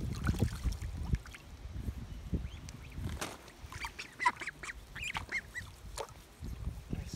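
Ducklings paddling and splashing on water, soft close ripples and low watery movement with faint quacks scattered throughout, no talking.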